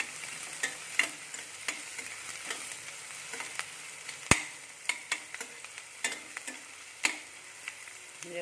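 Chopped onions and green chillies fry in a pan for a bottle gourd curry, with a steady soft sizzle broken by sharp ticks and clacks of a spoon stirring against the pan, one louder knock midway.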